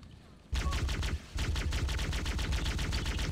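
Assault rifle fire in the Halo video game, a loud, rapid automatic burst of evenly spaced shots that starts abruptly, pauses briefly, then resumes in a sustained stream, with no talking over it.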